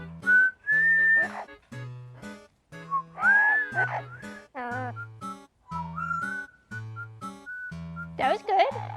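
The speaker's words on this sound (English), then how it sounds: "Hello, birdie. Can you whistle?" A parrot whistles a series of clear, rising and gliding tones, close and loud, interspersed with low pulsing sounds and a warbling flourish at the end.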